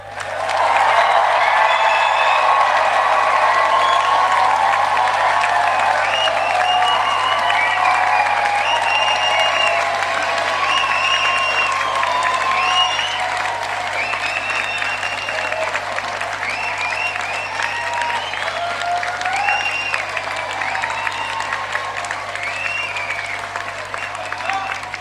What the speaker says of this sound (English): let's raise the roof with a final round of applause and congratulate our graduates